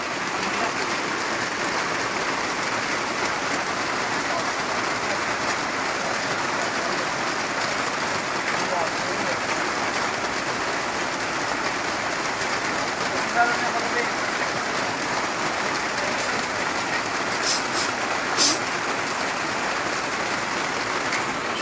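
Heavy rain beats down steadily and loudly on surfaces, a continuous hiss-like downpour with a couple of brief knocks near the end.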